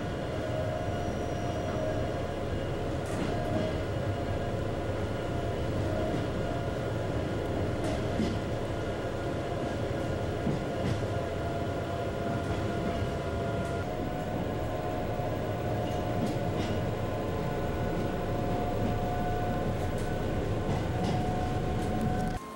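A train rumbles steadily along the rails while climbing through pine forest in the High Tatras, a continuous low roar with faint metallic squeals and clatter, heard from inside the carriage.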